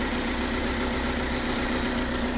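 A Dodge Neon 2.0 SOHC engine idles smoothly on a battery charger after a head gasket job, giving a steady, constant low rumble and hum throughout, with no voices.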